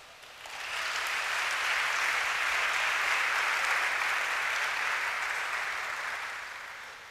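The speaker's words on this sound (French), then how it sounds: "Acclamons-le." A church congregation applauding during a Sunday worship service, sustained even clapping that swells in, holds steady for several seconds, then fades out.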